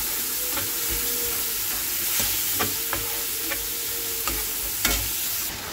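Taro leaves stir-fried with turmeric, salt and spices in hot oil in a pan, giving a continuous close sizzle broken by scattered scraping stirs and spatters, with no talking.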